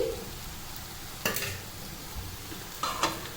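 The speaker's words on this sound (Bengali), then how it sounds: "তো এই খুন্তিটাতেই নাড়ছি" A spatula stirs sugar and salt in a pan, giving a couple of short scraping bursts over a quiet background hiss with no voices.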